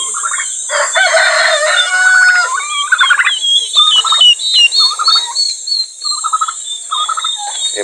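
Turkeys gobble in a busy, overlapping chorus, the calls repeating loudly and close by for several seconds.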